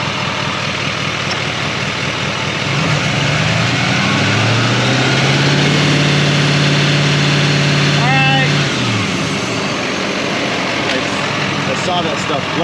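A Silverado Duramax 6.6 L L5P diesel idles, then revs up and holds near 2000 rpm with a rising whistle from the turbo before dropping back to idle. Voices talk over the engine.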